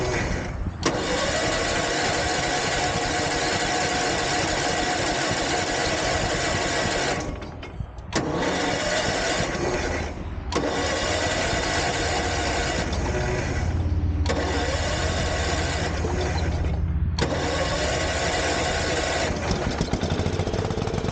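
A 1973 Ariens machine's small engine sputters and runs roughly, loud and close, with a few brief dips where it nearly stalls before catching again, its choke set just slightly down.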